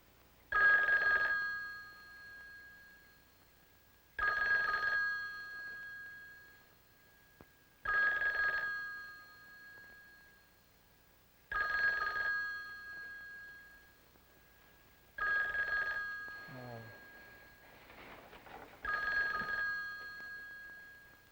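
An old-style telephone bell rings in six long bursts, evenly spaced a few seconds apart, loud and close, with quiet pauses between rings.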